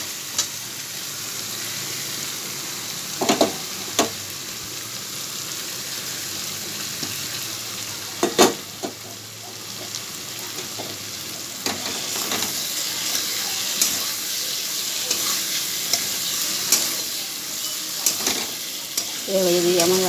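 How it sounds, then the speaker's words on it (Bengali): Fried potatoes go into sizzling spice masala for a paneer curry, with a continuous loud frying hiss broken by repeated scraping stir strokes at irregular intervals. "ভাজা আলুগুলো দিয়ে দেবো।"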